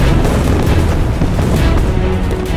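Naval cannon fire from wooden sailing warships at the Battle of Trafalgar, a dense, continuous rumble of overlapping booms and bursts, loud and sustained with no pauses and no voices.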